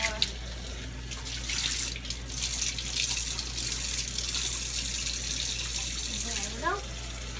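Tap water runs steadily into a kitchen sink while dishes are washed by hand, a close, continuous splashing hiss with occasional clinks, under intermittent talking.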